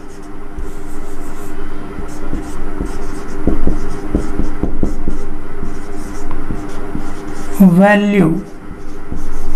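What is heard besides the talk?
writing on a board during a math lecture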